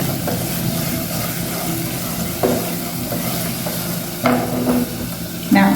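Food frying in a pan while browning, a continuous close sizzle with a few brief louder bursts and scrapes as it is stirred.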